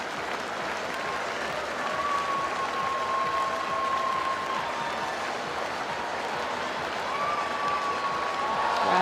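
A large stadium crowd at the 2019 World Athletics Championships women's long jump final claps steadily and continuously, a dense sustained wash of applause with a faint tonal whine above it.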